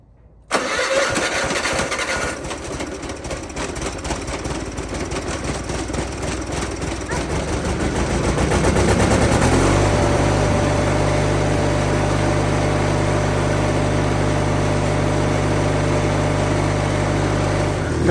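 An MTD 5020 garden tractor engine, primed with starter fluid and choked, cranks for several seconds, then catches and settles into a loud, steady running drone close to the microphone.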